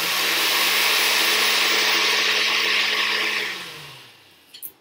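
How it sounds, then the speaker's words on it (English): A blender whirs loudly and steadily through whole wheat crepe batter, then winds down and stops, followed by a couple of faint clunks. "you can just quickly blend it up again to mix it up again when it gets a little lumpy"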